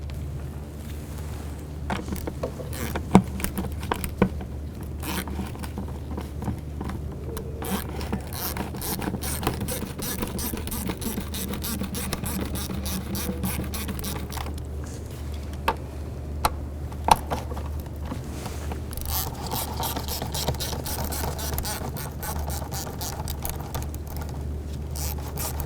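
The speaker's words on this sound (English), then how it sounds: "Using an 8 millimeter socket, we're going to go ahead and loosen this hose clamp here" An 8 mm socket ratchet loosens a hose clamp on a 2004-2009 Dodge Durango engine, giving fast repeated pawl clicks in uneven runs over a steady low hum for about 26 seconds.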